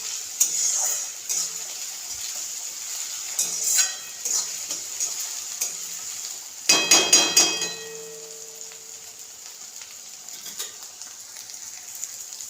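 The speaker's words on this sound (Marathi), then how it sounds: "टोमॅटोचा जोपर्यंत कच्चापणा जात नाही तोपर्यंत आपल्याला छान असा परतून घ्यायचा आहे" Tomatoes sautéing in a pan give a soft, steady sizzle with occasional spatula scrapes and stirs, plus a louder burst of stirring and sizzling midway before settling back to a quiet simmer.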